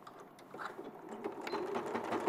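Sewing machine stitching a seam, heard as a quiet, steady mechanical whirr with a fine ticking rattle, fairly faint and continuous, with no talk over it.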